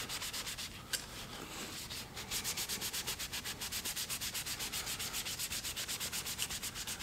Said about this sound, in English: And then I will kind of scrub it down.